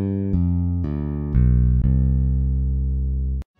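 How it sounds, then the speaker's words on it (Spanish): An edited bass guitar line in REAPER plays a handful of clean sustained notes in sequence, each one ringing smoothly into the next with no click, before the phrase cuts off abruptly. "Escuchemos ahora el bajo editado."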